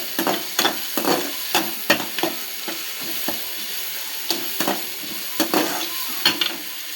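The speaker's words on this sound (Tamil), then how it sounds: "நல்லா பொன்னிறமாக இந்த மாதிரி வதக்கிக்கிட்டே இருக்கணும்." Chopped onions sautéing in a pan to golden sizzle steadily while a spoon scrapes and stirs in repeated quick strokes, close and clear with no talking.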